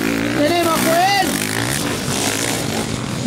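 Enduro motorcycle passing during an enducross race, its engine noise loud and steady under continuous commentary, with a brief rising whine near the start.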